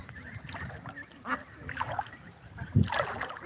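Ducks being carried at a duck farm near a shallow river give a few scattered, moderately loud quacks and honks, with some splashing.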